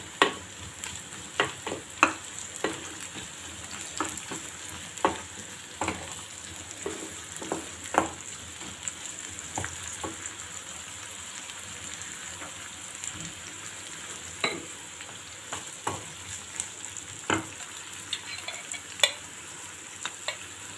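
Long green peppers sizzling in olive oil with onions already sautéed in the pan, for an olive-oil bean stew, a steady frying hiss broken by repeated stirring scrapes and clicks, close and alone without talk.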